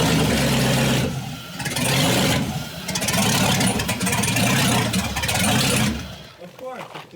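A Chevy V8 swapped into a Volvo with an open downpipe, revving loudly in repeated surging bursts with brief dips between, close and raw, ending as the engine drops off; people talk nearby.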